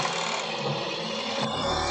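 An overlock sewing machine runs around the edge of a fabric facing with a fast, continuous mechanical whir and clatter that changes pitch briefly near the end. Up close and steady, with no voices.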